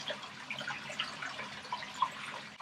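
Water in a dwarf caiman's enclosure is splashed by hand to simulate food, making soft, quiet, irregular splashes and drips with a few brighter plinks. No voices are heard.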